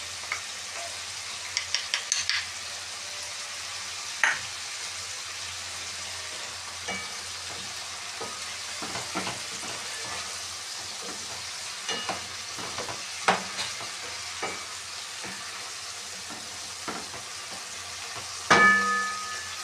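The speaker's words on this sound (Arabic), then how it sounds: "وما زلنا شغالين في التقليب." Meat seasoned with black pepper frying in ghee, stirred steadily with a spoon, giving a continuous close sizzle broken by scattered scraping clicks and a few louder knocks against the pan.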